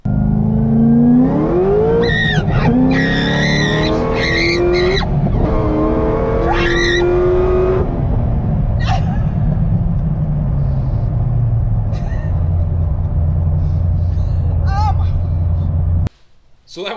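A Chevrolet Corvette is driven hard, its loud engine revving up through gears with rising pitch, then easing to a steady drone before cutting off abruptly near the end.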